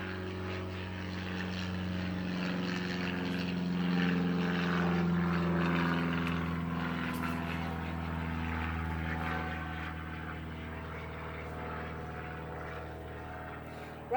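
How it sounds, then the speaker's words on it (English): A propeller airplane passes overhead, its engine drone swelling to a peak midway and then slowly fading, a steady low hum with no talk. "Let's wait for the plane."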